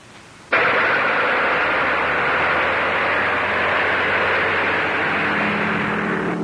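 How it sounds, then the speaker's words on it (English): A loud, steady aircraft engine roar, from a 1935 film, starts abruptly and holds at a constant drone, broadband and rumbling, with no voices over it. "Start the plane."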